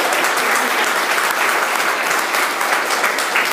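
Steady, full audience applause at an art talk, dense even clapping filling the whole stretch with no talking over it.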